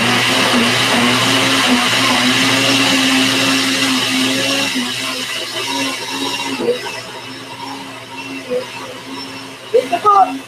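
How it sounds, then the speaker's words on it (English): A kitchen blender whirs loudly and steadily while blending beets and kale for about five seconds, then winds down into quieter clatter and a voice nearby. "Now y'all about to hear my blender."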